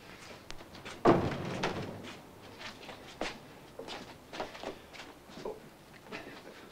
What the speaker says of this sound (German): Mach die Tür zu.